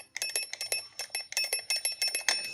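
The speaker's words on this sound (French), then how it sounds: "qui va faire sonner la cloche" A small bell on a homemade toy train circuit rings in rapid repeated metallic dings, a clattering, uneven burst of strikes that carries on throughout, close and fairly clear.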